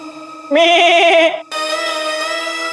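A goat bleats in a short quavering cry between two sustained steady tones in a Hindi Aladdin fantasy show, loud and close.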